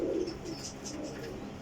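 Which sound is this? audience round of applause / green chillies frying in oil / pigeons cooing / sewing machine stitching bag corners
pigeons cooing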